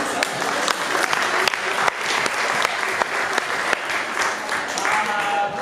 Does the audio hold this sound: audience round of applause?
yes